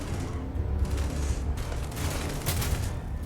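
Rapid gunfire from a weak gun in the video game Starfield, a quick string of fairly quiet shots with mechanical clatter.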